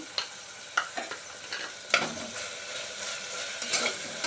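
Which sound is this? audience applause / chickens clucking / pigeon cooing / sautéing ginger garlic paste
sautéing ginger garlic paste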